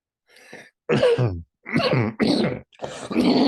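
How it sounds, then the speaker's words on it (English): Several hoarse, throaty coughs in separate bursts, close and fairly loud, with short pauses between them. "My cough is back."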